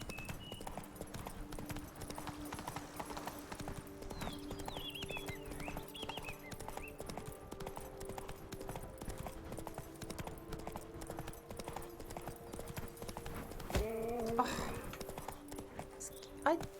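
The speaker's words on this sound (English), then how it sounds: "I got tangled up in their horses." Horse hooves clip-clop at a steady walking pace in The Witcher 3: Blood and Wine, a continuous close rhythm running under game sounds and a voice talking, with a brief louder burst near the end.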